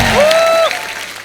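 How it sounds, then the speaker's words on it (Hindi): A TV comedy show's studio audience applauds guests, Mumbai's dabbawalas, in a brief loud burst; a rising tonal swoop rides over the clapping before it thins out. "इनके लिए जोरदार तालियां"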